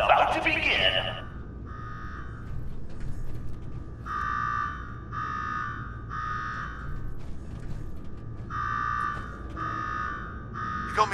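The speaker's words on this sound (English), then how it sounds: "Now go shut off that damn alarm." Repeating electronic alarm in Fallout 4's Nuka World rings out in regular pulsed bursts, steady and fairly loud over a low rumbling background, with a brief noisy clatter at the start.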